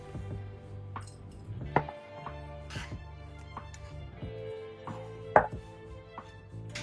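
Two red bell peppers being cut and deseeded on a board, a few sharp knife strikes standing out over a low steady hum, with softer handling and scraping sounds between them.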